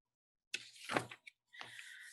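A door pushed shut, heard as a few sharp, close knocks and a brief sliding scrape, then a last thud, with no voices.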